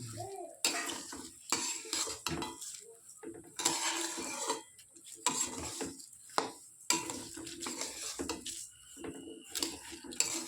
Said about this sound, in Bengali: আমি চালটা ভালোভাবে নেড়েচেড়ে ভেজে নিয়েছি একটু।